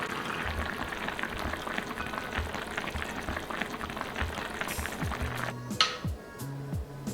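Kimchi stew with meat broth, tofu, green onions and pepper simmers in a pot over low heat, a steady dense bubbling with soft pops throughout, and a brief clink of a utensil or lid near the end.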